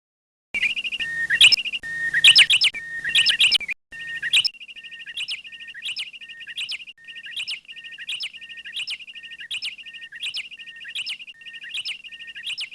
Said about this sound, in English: I simply love hiking and listen to the birds.